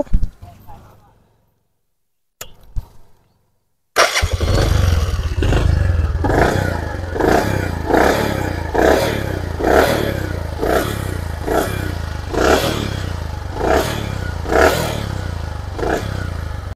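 A Bajaj Platina 110 motorcycle engine idles and revs with a rhythmic, pulsing putter, close and fairly loud after a brief quiet start.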